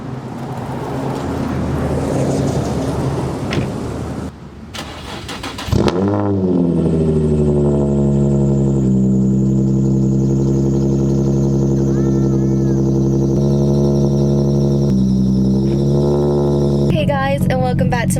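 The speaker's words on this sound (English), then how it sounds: "let's do a cold start" A Nissan G35 engine turns over on a cold start, a brief crank and catch followed by a steady, loud idle with a strong low harmonic drone and a faint belt-like whine near the end.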